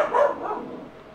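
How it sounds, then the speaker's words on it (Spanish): Dogs bark once in daylight, a short, moderately loud bark that fades quickly, heard alone without speech. "Como es de día, pues están mis perros ahí despiertos y ladrando."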